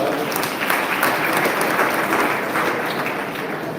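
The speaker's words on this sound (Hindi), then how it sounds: "एक बार ताली बजाकर हम उनका स्वागत।" An audience at a live youth gathering with a deputy chief minister applauds to welcome a speaker, a dense, steady burst of clapping from many hands that continues throughout.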